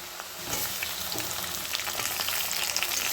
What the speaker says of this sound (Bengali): আলুটাকে একটু লাল লাল করে ভেজে দেবো।